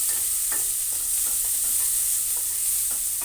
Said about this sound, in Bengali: তেজপাতা ফোড়ন দিয়ে পেঁয়াজ রসুন সেটা দিয়ে দিলাম